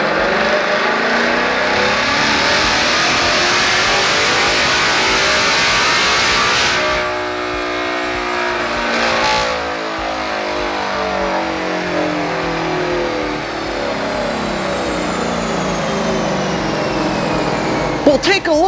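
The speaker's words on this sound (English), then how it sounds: "Now it's time to run the car and see what type of gains we pick up over stock" A Ford Mustang GT engine with a Whipple Crusher intake revs hard and loud, climbing in pitch, easing off briefly, then roaring up again in a long sustained pull.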